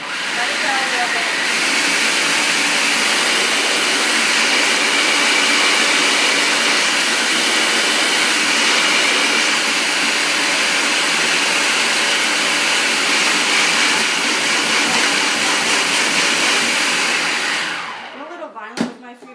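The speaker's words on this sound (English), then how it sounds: "I just distribute it around inside the food processor. Turn it on." A food processor whirs loudly and steadily, mixing cake crumbs for cake pops, with a continuous motor drone lasting over fifteen seconds before cutting off abruptly.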